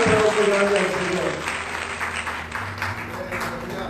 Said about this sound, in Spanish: Dale un aplauso grande al Señor.